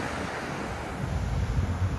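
Surf and steady wind at Curtin Bluff Beach in Antigua, a continuous broad rushing wash with a swelling low rumble of breaking waves and wind buffeting the microphone.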